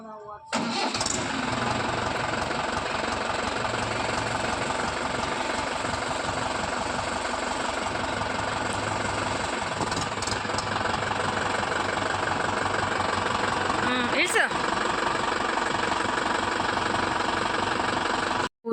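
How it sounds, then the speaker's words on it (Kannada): A new tractor's engine runs steadily close by at a constant loud level for the whole stretch, a continuous idling drone, with a brief higher rise near the end and voices faintly underneath. "ಈಗ ಟ್ಯಾಕ್ಟ್ರನ್ನ ಮುಂದಕ್ಕೆ ಬಿಡುತ್ತೆ ಅಂತೇಳಿ ಅದನ್ನ ಸ್ಟಾರ್ಟ್ ಮಾಡ್ತಿದ್ದಾರೆ"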